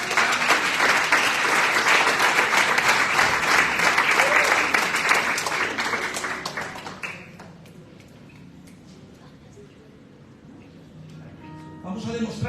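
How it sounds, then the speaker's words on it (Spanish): Church congregation applauding, a loud, dense burst of many hands clapping that carries on for about seven seconds, then drops away to quiet room sound with a few scattered claps and a voice returning near the end. "un aplauso para el Señor."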